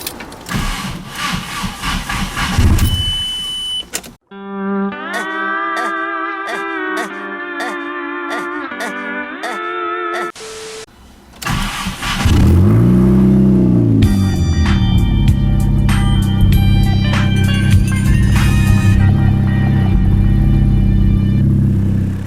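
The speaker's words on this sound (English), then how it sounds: "start the car up and verify your car is running normally" After some whirring and tonal mechanical sounds, a VW/Audi 1.8T engine cranks, catches and settles into a loud, steady running hum after a coil pack ignition harness install.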